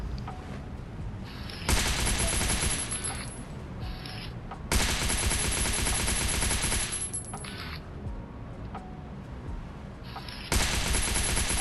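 Bursts of automatic gunfire from the survival video game Last Island of Survival, three long loud volleys of rapid shots separated by short pauses, no voices.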